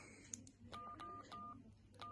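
Keypad beeps from a Sony Ericsson T-100 mobile phone: a quick run of about five short, clear tones pressed in an uneven rhythm, faint and close, over a quiet background.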